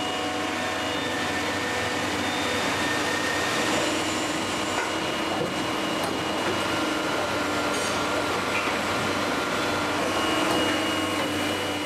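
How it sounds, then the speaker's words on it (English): A steady, loud mechanical whir and hiss runs throughout as a plastic moulding machine draws raw plastic pellets in by vacuum, with faint rattling and clicks beneath. "the raw material that's drawn into the moulding machine by vacuum"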